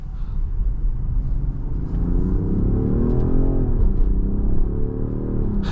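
A 2025 Range Rover Sport 550e plug-in hybrid accelerates, its engine note rising in pitch with a steady low rumble, heard from inside the cabin and continuous throughout without talk.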